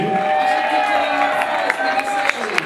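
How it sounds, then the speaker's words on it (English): Crowd noise at a Muay Thai fight night in Toronto, a dense roar of cheering and applause with a few sharp claps and whoops standing out, fairly close and sustained throughout. "Give these boys a big round of applause. Keep making some noise here, guys."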